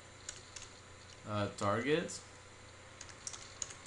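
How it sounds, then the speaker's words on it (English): Sparse keystrokes click on a computer keyboard while someone types code in Unity, with a brief spoken word in the middle of the light tapping. "let's just start by typing a variable"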